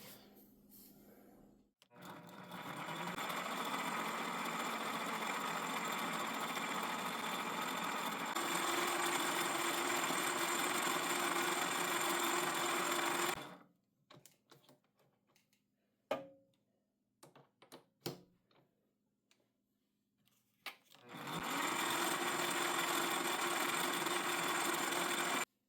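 A metal lathe motor hums steadily for long stretches while facing and polishing a metal part, broken by a quieter gap of scattered clicks and taps before the whirring starts up again.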